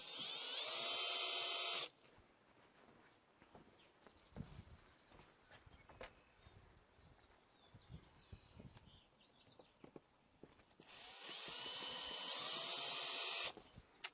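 A power drill drilling plexiglass whines loudly in two long bursts, one at the start and one near the end, with quieter handling and scraping noises between.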